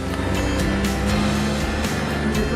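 Classic Citroën rally cars setting off from the Marne, a steady loud engine drone with a buzzing, fluttering exhaust note and faint repeated swells as vehicles move past.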